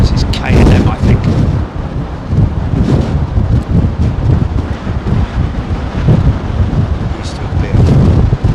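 A Boeing 737 passes overhead on arrival at a very windy London Heathrow, its loud, broad roar mixed with heavy wind buffeting on the microphone and a voice talking briefly.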